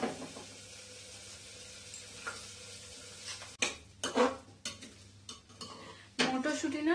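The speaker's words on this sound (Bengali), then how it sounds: "এবারে আমি এটা মিশিয়ে দেবো।" Motorsuti dal, a pea lentil dish, stirred in a pan with oil: soft scraping and clinking of a utensil over a faint sizzle, with sharper bursts of stirring in the second half.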